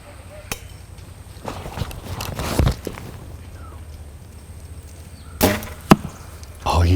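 At an ASA archery tournament an arrow strikes a target with a sharp thwack, followed by a few more scattered knocks and thuds in quiet outdoor surroundings.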